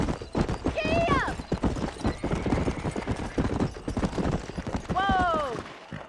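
Horse hooves clip-clop at a fast, rhythmic gallop in the video game Red Dead Redemption, with two loud whinnies breaking through and voices calling out over the ride.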